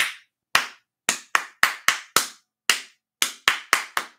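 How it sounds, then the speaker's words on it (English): Close, dry hand claps beat out a rhythm, about a dozen sharp claps in uneven groupings with quiet gaps between them and no talking. "take your hands off the guitar and let's clap the rhythm"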